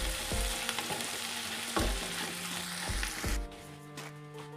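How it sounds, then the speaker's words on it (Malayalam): Onions frying in oil toward light brown for lemon rice give a close, steady sizzle, broken by a few scraping stirs, before the sizzle drops off near the end. "സവാള സവാള ചെറുതായിട്ടൊന്ന് ലൈറ്റ് ബ്രൗൺ കളർ ആവണം"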